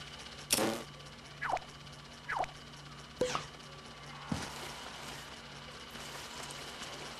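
A motor driven by a grab switch in LittleBigPlanet 2 whirs and ratchets, giving a handful of separate short mechanical creaks and clicks at irregular intervals over a quiet steady hum.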